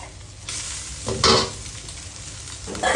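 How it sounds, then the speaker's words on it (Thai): Shallots stir-fried in a hot wok for shrimp pad thai, then noodles added: steady close sizzling with several louder scraping stir bursts, no talking. "ผัดหอมนะ แล้วก็ตามด้วยเส้นฮะ"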